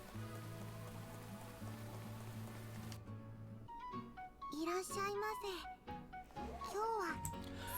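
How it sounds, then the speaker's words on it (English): Rain falls in the Atelier Sophie: The Alchemist of the Mysterious Book video game as a steady wash under the game's background music, with chiming in-game tones and effects entering partway through. "Oh, it's raining."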